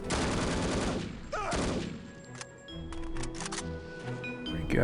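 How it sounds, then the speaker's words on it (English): An AK rifle fired in the spy shooter No One Lives Forever, bursts of rapid gunshots up front and scattered clicks and metallic clatter afterward, close and fairly loud. "Pop the AK."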